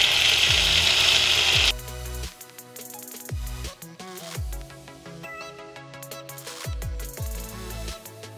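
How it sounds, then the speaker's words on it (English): A power drill with cutting fluid on the bit whines through hardened steel in repeated short bursts, each spinning down with a dropping pitch between runs, against steady background music. "now I'm gonna drill through these dots and pop some rivets in there"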